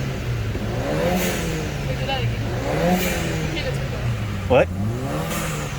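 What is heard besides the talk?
2014 Ford Escape engine revving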